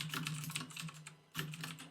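Fingers type on a computer keyboard in quick irregular bursts of close, crisp keystrokes, with a brief pause before the clatter resumes; no one speaks.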